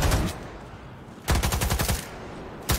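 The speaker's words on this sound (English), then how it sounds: "And then we do the shooting." Automatic gunfire in Cyberpunk 2077 with ray tracing overdrive: rapid bursts of loud shots, a long burst in the middle and a shorter one at the end, with a dense game soundscape between.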